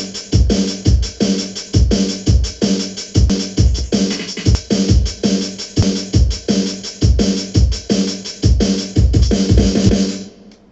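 Drum and bass drum loop programmed in Fruity Loops: fast, loud, tightly repeating kicks and crisp snares with busy hi-hats, running alone in a steady driving rhythm that cuts off near the end.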